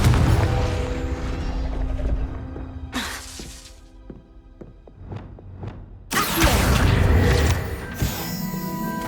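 A Confringo blasting spell in Hogwarts Legacy goes off as a loud burst with a crackling, shattering crash, followed later by a second heavy blast amid scattered impacts and game ambience.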